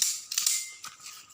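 Gunfire at a shooting practice range comes as a few quick, fairly distant pops in a short burst, with no talk over them.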